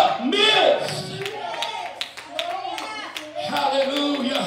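Congregation hands clapping in praise during a church service, steady dense applause-like clapping running throughout over a bed of mixed voices and room noise.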